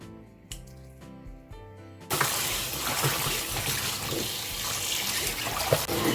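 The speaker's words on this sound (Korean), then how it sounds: "이 갓은 한 네 번 정도는 아마 씻고줘야될 거예요" Mustard greens for Yeosu Dolsan gat kimchi are swished and rinsed in a basin of water, a steady close splashing and sloshing that starts abruptly after a quiet opening with a few small clinks.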